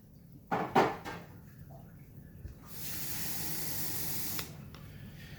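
A steady hiss of water squirted into a blender of salsa verde, running for about a second and a half after a few soft kitchen clunks, close and fairly quiet.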